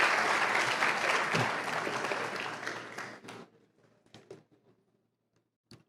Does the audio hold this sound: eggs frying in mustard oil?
no